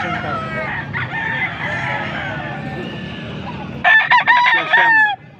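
A young rooster, a stag, crows at an outdoor Saturday–Sunday poultry market in Angeles City, Pampanga. The loud, close crow comes near the end over steady market chatter and background noise.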